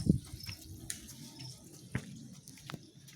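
Water running from a spring outlet at the Amhai Dham temple in the Kaimur hills: a faint, low trickle broken by a few scattered drips, fairly close, with no voices.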